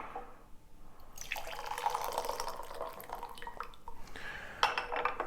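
Water is poured over ripe pu-erh tea leaves for a quick rinse, a steady close splashing stream of about three seconds with light clinks of teaware at the end.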